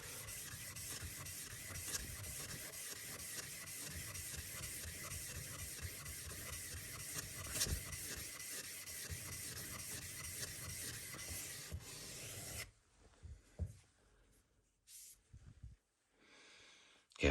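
A kitchen knife is worked across a sharpening stone, a steady dense scratching that runs continuously for about twelve seconds before breaking into brief, sparse strokes and near silence.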